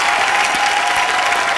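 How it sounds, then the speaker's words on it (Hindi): Steady, dense studio-audience applause greets a guest on a Hindi TV comedy show, a continuous loud wash of clapping from a large crowd with no talk over it. "इनके जोरदार तालियां इनके लिए"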